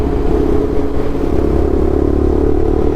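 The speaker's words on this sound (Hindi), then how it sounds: "ट्रम्प की बाइक थी। देखो अभी तक आवाज़ आ रही है इसकी।" A motorcycle engine drones loudly and steadily on the road during a bike ride, a dense, close rumble with a sustained whirring tone that holds at an even level throughout.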